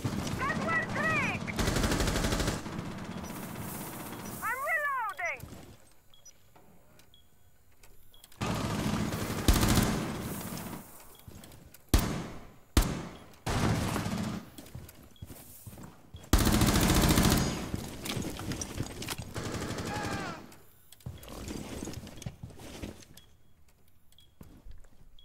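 Rainbow Six Siege gunfire: repeated bursts of automatic weapon fire and single shots, loud and close, broken by quieter gaps and scattered game sounds.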